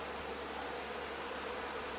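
Honeybees buzzing on a frame from a split hive, a faint, steady hum with a hissy, airy texture throughout, no voices.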